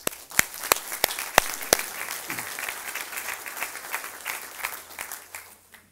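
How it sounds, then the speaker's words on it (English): An audience at a global supply chain summit applauds its board members, opening with a few sharp, loud claps that spread into a dense, even patter from a crowd of moderate size, then slowly thin out. "give a big round of applause for them"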